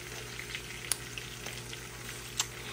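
Galunggong fish fry in hot oil with a steady, close crackling sizzle and a few sharp pops throughout.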